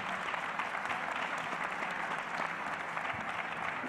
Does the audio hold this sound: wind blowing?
no